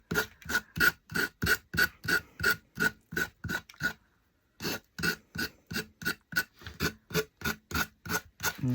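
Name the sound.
finger sander sanding edges of craft pumpkin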